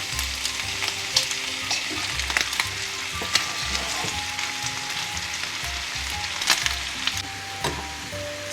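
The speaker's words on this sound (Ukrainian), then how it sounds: "Тепер додаємо сюди нашу суміш огірки з цибулею." Chopped cucumbers and onion tip into a pan of chicken giblets stewed about forty minutes, and a steady close sizzle runs throughout, broken by soft stirring scrapes and small crackles.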